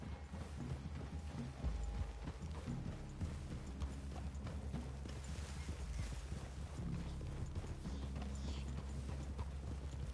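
Steady clip-clop of horse hooves moving at a walk in Red Dead Redemption 2, mixed with a busy low rumble of background game ambience, fairly loud and continuous throughout.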